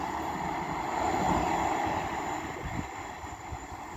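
A pair of Class 156 diesel multiple units runs past Castleton station, a steady, close rumble with an engine drone that swells slightly at the midpoint and then eases off.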